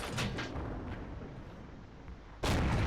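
A T49 tank's cannon in World of Tanks fires a sudden, loud booming shot near the end, preceded by quieter thumps and low rumbling battlefield noise.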